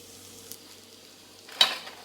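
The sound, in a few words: dry fruit powder and pieces stirred in kadhai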